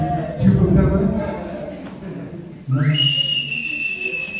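Inside a church, a person whistles loud, sustained tones, starting around mid-clip and holding steady and piercing, with talking voices heard beforehand.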